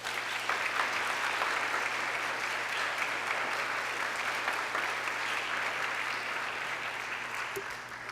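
Audience applauding to welcome a keynote speaker at the College of Charleston, steady sustained clapping from a crowd throughout.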